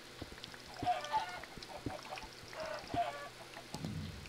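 A chicken in the Minecraft video game clucks in a few short, faint bursts, mixed with small clicks and game sounds, with no speech.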